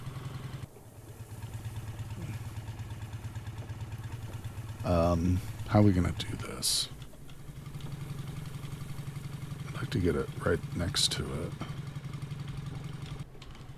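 Motorcycle engine idling in the video game Cataclysm: Dark Days Ahead, a steady low rumble running under the whole stretch while a person talks over it in a couple of spots.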